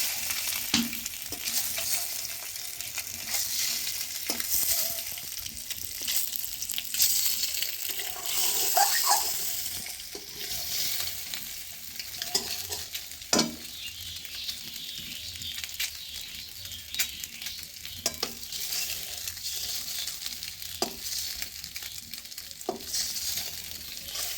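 Eggs fry in plenty of oil in a pan, a steady hissing sizzle with occasional small pops and utensil taps running throughout.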